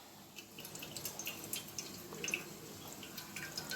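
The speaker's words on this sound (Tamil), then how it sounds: "கையாலேயே புளியை இருத்து புளி காய்ச்சலை நீங்கள் எடுத்துக்கலாம்" Tamarind pulp squeezed and strained by hand for prawn curry lets liquid fall in quick, faint, steady drips and trickles in a quiet kitchen.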